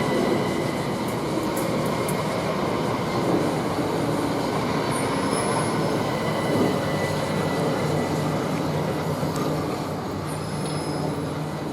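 A Class 375 electric multiple unit at Rochester station, a continuous loud rumble of the train with brief high wheel squeals and tones, steady throughout and without voices.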